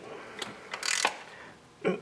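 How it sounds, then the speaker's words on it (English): Ratchet wrench tightening small 10mm bolts on a thermostat housing of a Dodge Caravan 3.3L V6 engine, giving a few short, close clicking bursts separated by pauses. "I am not tightening these on super tight because they're just little 10mm bolts"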